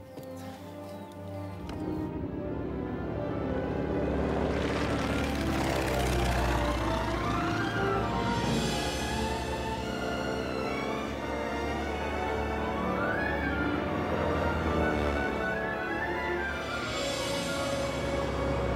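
A small experimental aircraft engine drones steadily in flight after starting up, a continuous loud roar with shifting tonal sweeps over nearly twenty seconds, with background film sound layered in.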